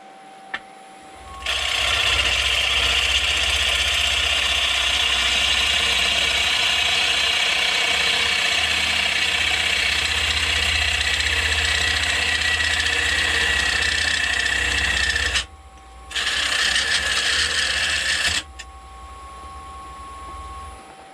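Wood lathe spinning a bowl blank on a faceplate while a gouge trims the wood, a steady loud continuous whir and scraping hiss that runs almost the whole time, with one brief pause before resuming.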